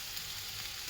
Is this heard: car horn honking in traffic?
no